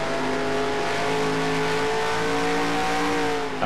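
NASCAR race cars drifting in NASCAR Racing 2003, a loud steady engine roar with a sustained tire squeal throughout, close and continuous with no talk.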